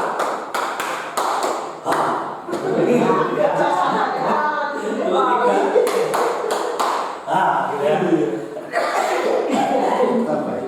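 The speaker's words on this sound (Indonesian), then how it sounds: "Nah, kemudian tepuk 3 gitu ya." Students in a classroom clapping routine make rapid bursts of hand claps. Talking and chuckles run through and between the claps.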